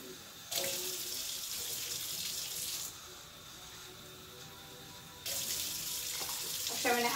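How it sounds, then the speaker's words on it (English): Water runs from a tap in two bursts, splashing steadily into a pot for cooking rice, with a quiet pause between them. "And we're going to add 2 cups of water."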